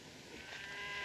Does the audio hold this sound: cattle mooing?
yes